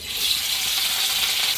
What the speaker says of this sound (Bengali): কাতলা মাছের পিসে এই যে হলুদ লবণ ভালো করে মাখিয়ে নিয়েছি, এবার ভেজে নিব